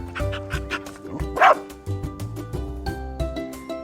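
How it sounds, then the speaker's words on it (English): A dog barks once, loud and close, over a bright children's music backing, part of a farm animal sound sequence. "dog,"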